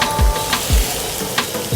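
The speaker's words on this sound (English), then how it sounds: "start layering some of this fruit on the grill to get these grill marks on there" Fruit sizzles steadily on a hot grill, a continuous crackling hiss with a few soft thumps and clatters of pieces being laid down, close and loud.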